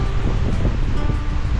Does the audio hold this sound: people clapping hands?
no